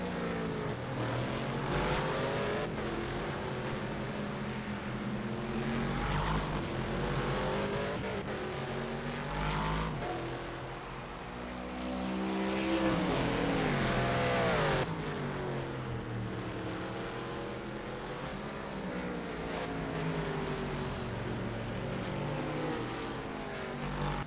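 Race cars in a virtual endurance event at the Bahrain circuit scream through repeated rising engine sweeps as they accelerate out of corners, several cars layered closely, with gear changes breaking each climb.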